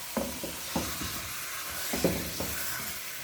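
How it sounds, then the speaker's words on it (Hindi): Large chicken pieces frying with onions in a pot for chicken curry: a soft, continuous sizzle broken by periodic stirring scrapes and spoon knocks, fairly quiet and with no talking. "इसको आपने अच्छी तरह से प्याज के साथ इसी तरह ही भून लेना है। पहले फ्राई कर लें इसको अच्छी तरह से"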